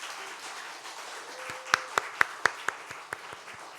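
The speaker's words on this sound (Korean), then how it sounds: "다시 한번 환영의 박수 한번 드립니다" A congregation at a Korean church's Sunday worship service gives a welcoming round of applause, a dense bed of clapping punctuated by a series of sharp, loud claps from someone close by, in a near-even rhythm.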